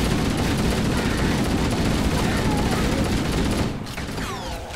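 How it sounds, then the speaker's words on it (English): A gas-powered gun in the video game Halo: Combat Evolved, on the Pillar of Autumn, fires a loud, continuous rattling burst layered over dense battle noise, then cuts off sharply, leaving a quieter hiss with chirping effects trailing away. "What a gas-powered gun sounds like."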